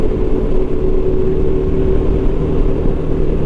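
A motorcycle on Dunlop Trail Max Mission tires rolls over gravel on an adventure route, heard as a steady, continuous low rumble of engine and road noise mixed with wind, with no clear breaks.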